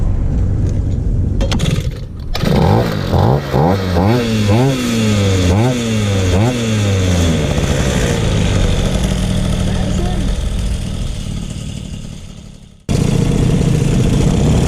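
A moped engine revs repeatedly in close, loud, rising-and-falling bursts, the rhythmic climbing pitch sweeps giving way to a steadier drone before cutting off sharply near the end, with voices talking around it.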